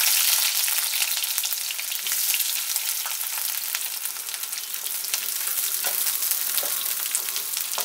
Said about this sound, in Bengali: কড়াইতে আমি 2 টেবিলস্পুন সরষের তেল দিয়েছি। তেলটা গরম হয়ে গেছে। এর মধ্যে কুচানো পেঁয়াজটা দিয়ে দিলাম। পেঁয়াজটা আমি একটু ফ্রাই করে নিচ্ছি।